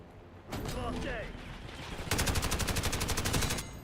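Rapid automatic gunfire in the video game Call of Duty Black Ops 7, a brief burst of shots followed by a longer fast rattling string of rounds, loud and close over a dense game soundscape.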